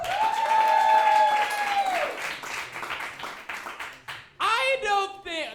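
A live audience claps for a contestant in a Bugs Bunny versus Bad Bunny comedy quiz. A short burst of applause comes between stretches of a host's voice, which talks before and after it.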